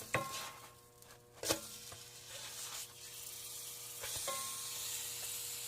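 Banana slices frying in a pan on an RV stove, a soft continuous sizzle with a few sharp utensil clicks and scrapes, faint and close, no talking.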